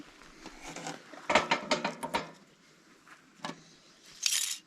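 Metal lids being screwed onto glass canning jars of smoked salmon, several short ratcheting clicks and scrapes in quick bursts, close and fairly quiet, with gaps between turns.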